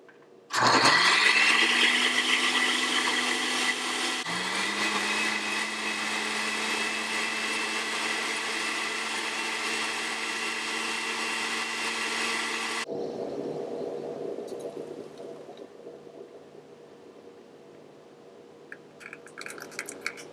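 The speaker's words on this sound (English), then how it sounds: "When you are blending your chutney in the blender and it doesn't blend properly" A blender whirs loudly and steadily blending green mint chutney, briefly pausing and restarting, then cuts off, leaving quieter background noise and faint clinks.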